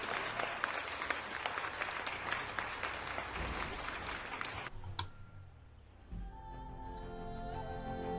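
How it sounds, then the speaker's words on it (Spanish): A studio audience claps in a dense burst for about five seconds, then it cuts off abruptly and quieter sounds follow. "Un aplauso para Vanessa Martínez, oigan"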